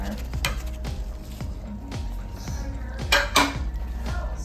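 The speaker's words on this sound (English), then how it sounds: "Stir gently. I'm stirring some gentleness." Meatballs being gently stirred in simmering spaghetti sauce in a pot, with a spoon clinking and scraping against the pan in slow repeated strokes, close and moderately quiet, and a couple of louder knocks.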